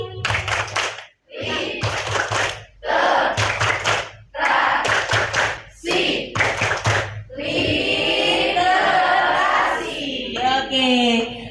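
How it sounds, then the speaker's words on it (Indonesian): Group of participants at a book-review writing workshop in Pekalongan perform a rhythmic literacy clap chant, loud bursts of patterned clapping in short phrases, mixed with shouted chanting voices. "Tepuk literasi."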